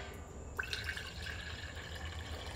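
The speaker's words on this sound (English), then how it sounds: "I'm going to pour this into our collection device." Hot distilled water is poured into a mason jar, giving a faint thin trickle and small splashes over steady background hiss.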